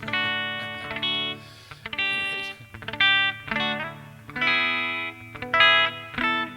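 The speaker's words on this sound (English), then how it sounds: "Okay, so I like that reverb." Electric guitar chords ring out through a reverb effect from a Line 6 HD500X, several strummed phrases with lingering, washy tails and slight distortion, no talking.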